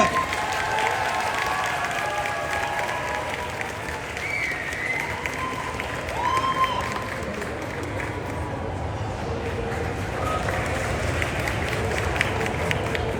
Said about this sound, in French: Je vous demande d'applaudir très très fort Corinne Nemec.